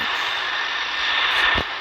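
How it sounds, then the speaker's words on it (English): A steady, loud airplane engine drone in a flight game, a continuous roar with a brief low thump near the end. "Plane."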